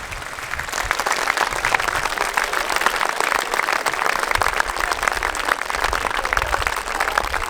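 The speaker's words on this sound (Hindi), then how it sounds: "तालियां ऐसी बज रही हैं" Sustained applause from a large school audience of students and teachers in an Indian auditorium, loud dense clapping that rolls on evenly for several seconds with no talking over it.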